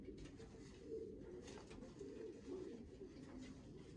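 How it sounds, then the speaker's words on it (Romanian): A blue-line Stichelbaut-Labeeuw racing pigeon coos softly and repeatedly, a low, continuous rolling murmur close by in a quiet loft. "un porumbel foarte, foarte frumos"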